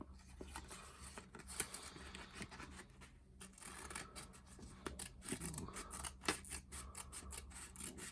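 Scissors cut paper for a mini slim line envelope, with a close, steady run of snips and light paper rubbing and scraping. No one speaks.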